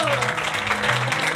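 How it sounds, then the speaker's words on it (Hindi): A crowd claps steadily at a Bhagwat saptah religious gathering in Faridabad, a continuous wash of applause with a low sustained musical tone humming beneath. "अब इनके लिए भी जोरदार ताली।"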